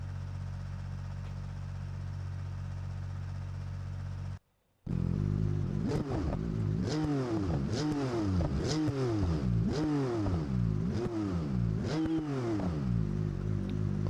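A flat-head inline-six in BeamNG.Drive, fitted with a race exhaust, revs hard to high RPM in a loud, rhythmic series of rising and falling surges after a brief dropout.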